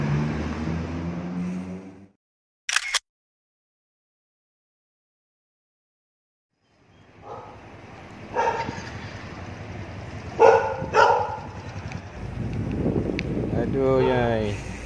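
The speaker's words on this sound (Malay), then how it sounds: "Jangan kena kejar anjing sudahlah." A dog barks and yips a few times during a relaxed group bicycle ride through a village near Melaka town, the calls mixed with road noise, wind and voices talking after a quiet gap at the start.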